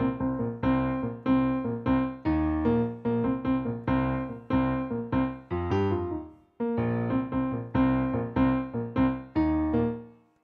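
A piano plays a contemporary piece with a beat: punchy, rhythmic chords and notes struck in a steady groove, close and fairly loud, with a brief pause near the middle.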